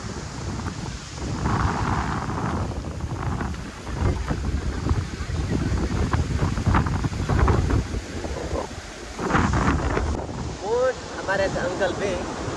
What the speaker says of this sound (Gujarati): આનો પવન તો આવેલો છે ને એકદમ ઠંડો ઠંડો ઠંડો આવે છે.